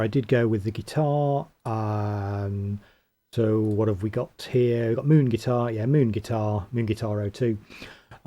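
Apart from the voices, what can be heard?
No distinct noise like a dog, phone or traffic.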